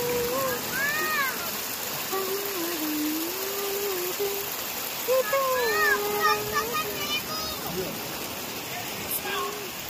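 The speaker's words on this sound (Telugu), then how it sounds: "చాలా పెద్ద పెద్ద అలలు వస్తున్నాయి." Big ocean waves rolling in at Butterfly Beach in South Goa, with rain falling, make a steady broad wash of surf that continues throughout, while a voice talks and seems to sing over it.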